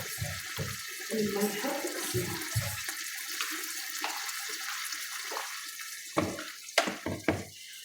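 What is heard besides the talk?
hot water poured onto frying chicken for couscous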